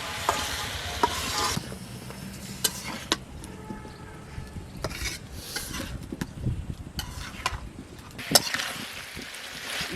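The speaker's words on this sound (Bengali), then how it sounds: "কুমড়াতে হলুদ, মরিচ, লবণ দিয়ে তেলের সাথে একটু ভালো করে নেড়ে চেড়ে ভেজে নিচ্ছি" Young pumpkin with turmeric, chili and salt stir-fries in oil, a continuous sizzle broken by scraping and rubbing of a spatula against the pan, close and moderately loud with no talk.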